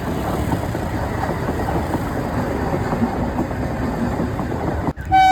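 Trains roll past a railway level crossing on both up and down lines, a loud continuous rumble and rattle of wagons close by, ending in a sudden sharp clunk.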